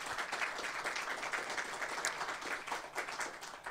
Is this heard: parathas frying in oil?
no